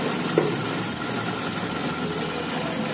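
A Nissan GA16 car engine idles steadily, a constant low rumble that holds even throughout, with one brief small knock near the start and no talking.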